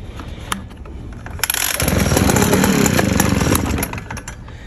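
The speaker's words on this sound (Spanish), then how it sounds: "el recoil empieza y pum, hace startear el motor." A small engine is started with a recoil pull starter: a brief pull and rattle, then the motor catches and runs with a loud, steady buzzing roar before cutting back down.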